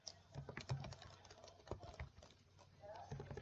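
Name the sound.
typing on a computer keyboard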